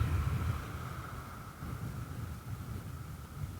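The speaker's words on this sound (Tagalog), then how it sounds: "Lakas kasi ng hangin." Strong amihan monsoon wind roars steadily at the coast, buffeting the microphone with low rumbling gusts throughout, no voices heard.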